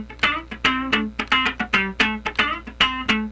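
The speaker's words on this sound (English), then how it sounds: "We're going to use rhythm pattern number 38." Funk rhythm guitar plays a fast, straight-feel one-bar strumming pattern: clean, choppy chord stabs and muted scratches repeat in a tight, steady groove, close and loud with no talking.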